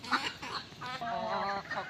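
Free-range hens cluck in short, close bursts and drawn-out throaty calls, several birds overlapping near the listener.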